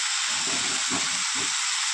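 Vegetables frying in a pan give a steady, loud, close sizzle and hiss, with low stirring thumps pulsing about three times underneath.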